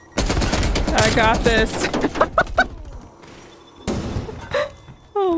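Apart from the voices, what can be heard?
gunfire from player shooting in a shooter video game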